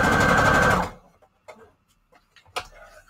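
A sewing machine runs a straight stitch through paper scrap strips, one loud close burst of dense mechanical whirring lasting under a second, then a few faint clicks and handling taps.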